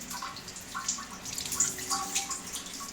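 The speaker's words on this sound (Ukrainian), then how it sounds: "Зараз промиваю цей весь фільтр" Water rinsing a car DPF filter on a Skoda Octavia Scout, a continuous splashing, hissing spray with small dripping and trickling accents, close and steady.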